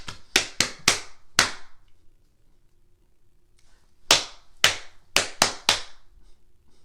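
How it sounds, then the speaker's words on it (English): Hands clap a short rhythm in a music lesson: a burst of five sharp claps, a pause of near silence, then six more claps in the same pattern. The claps are close and crisp, with no talking. "now I'm going to pat and you got to clap it"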